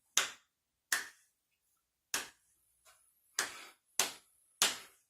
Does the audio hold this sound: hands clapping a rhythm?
yes